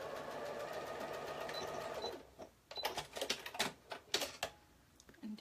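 Sewing machine running a straight stitch on a cardigan, a steady whirring stretch for about two seconds, then stopping and giving way to scattered clicks and handling noises.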